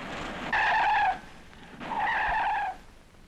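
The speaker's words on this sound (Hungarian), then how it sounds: "Hogy lehet ilyen veszettül fékezni?" Two sharp tire squeals from a car braking hard, each lasting about half a second with a short gap between them, fairly close, over quiet background noise.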